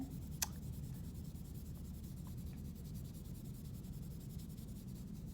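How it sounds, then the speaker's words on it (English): Soft, continuous scratchy brushing of a brush spreading graphite across paper, faint and close, with a steady rasping texture and one tiny tick near the start. "you can actually spread out the graphite with the brush"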